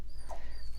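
A small pet dog indoors gives a short, faint whimper, a brief high whine over quiet room noise.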